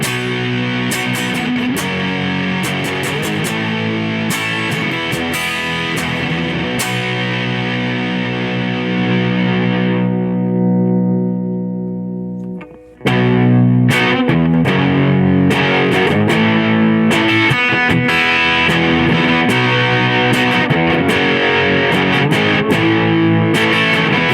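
An electric guitar through a Boss Blues Driver BD-2 overdrive pedal plays gritty chords and picked notes, stops briefly as a chord rings out and fades, then returns with heavy crunching strums.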